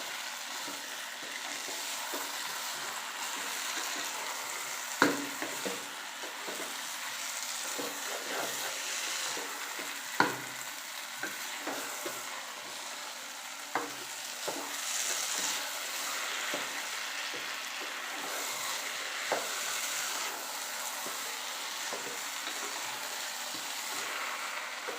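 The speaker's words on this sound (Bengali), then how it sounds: "এবার এগুলোকে ভালোভাবে ভেজে নিতে হবে।" Rice and lentils frying in a pot for Bengali khichuri, a continuous low sizzle broken by sharp spoon-stirring knocks and scrapes at irregular intervals, nearby and without speech.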